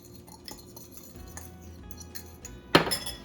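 Dry pork chop rub with garlic powder being stirred together in a bowl, giving soft scattered clinks and scrapes, then a brighter, louder clatter of utensil against the dish near the end.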